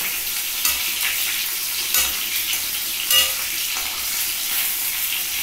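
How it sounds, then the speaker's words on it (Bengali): Ilish (hilsa) fish heads fry crisp in a hot pan, making a loud, continuous sizzle with a sharper crackle and stir roughly every second or so, with no talking. "একটু কড়া করে ভেজে নিচ্ছি"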